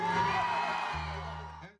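A crowd at a live reggae festival concert screams and cheers in one sustained roar that fades out at the end.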